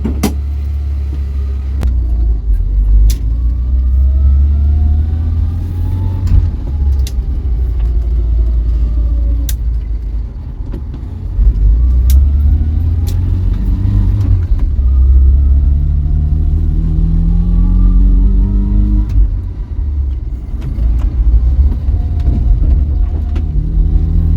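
A salvaged Vauxhall Viva's engine runs loud and close with a deep rough rumble, rising and falling with revs and gear changes over about twenty-four seconds, with sharp clicks scattered through.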